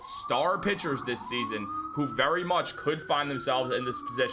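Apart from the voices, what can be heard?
sirens outside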